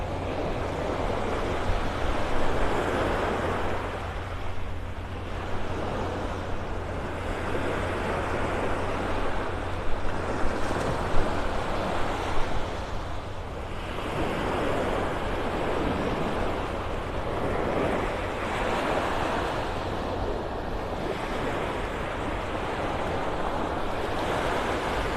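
Ocean surf breaking over a sandbar off a beach in North Naples, Florida, a steady roar of waves swelling and easing in slow surges, with wind buffeting the microphone and no voices.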